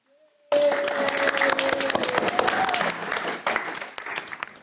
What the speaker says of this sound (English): It's polite to applaud.